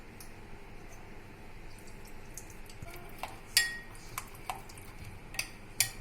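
A spoon stirs a spice marinade of chicken masala and lemon juice in a bowl, with scattered light clinks and scrapes against the bowl over a quiet background, close and soft, with no voices.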